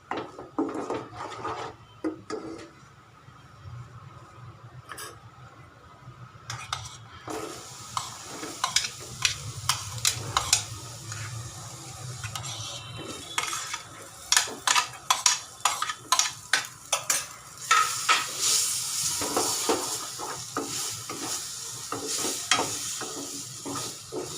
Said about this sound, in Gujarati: હવે આની અંદર આપણે થોડું જીરું નાખી દઈશું જીરું થોડું તકડી જાય